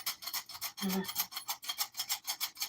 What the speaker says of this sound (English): I'm going to be using my hand whisk